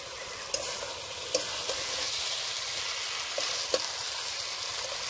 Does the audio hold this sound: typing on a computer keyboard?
no